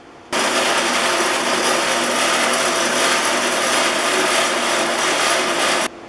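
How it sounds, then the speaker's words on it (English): Bench buffer loaded with high gloss polishing compound working a metal bench plane lever cap, a loud steady whirring rub that starts abruptly, holds evenly for about five and a half seconds, then cuts off. "You got to take it back over to the buffer."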